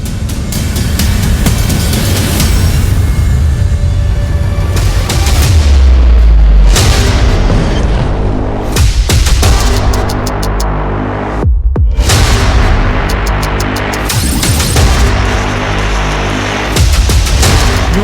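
Loud, continuous booming and rumbling from missile and drone strikes in Ukraine, with repeated heavy blasts and thuds throughout, separated by a few brief gaps.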